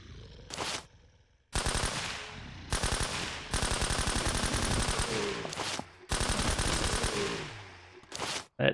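Automatic gunfire in SurrounDead rattles out in several long, loud bursts separated by short pauses, rapid shots close and dominant.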